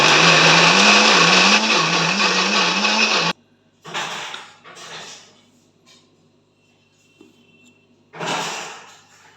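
An electric grinder whirs loudly while grinding soaked rice into paste for chitoi pitha, a steady high motor whine with a wobbling pitch that stops abruptly, followed by short scraping and clattering bursts.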